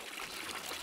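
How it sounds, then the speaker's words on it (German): Liquid pouring into a pot in the beer-brewing video game Brewmaster, a short, faint, steady hiss of flowing water without any voices. "Drücke E zum Gießen."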